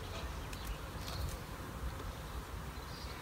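Bees buzz steadily in a dense, continuous drone at a beehive, close and fairly loud with no talking.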